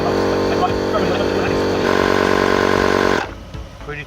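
A 12V DC portable air compressor pump running to fill a van's low tyres, giving a loud, steady buzzing motor drone that cuts off abruptly after about three seconds, leaving faint background noise.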